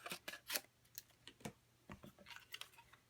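Scissors trim a small paper tag in a quiet room, giving a rapid series of soft, close snips and crisp cuts.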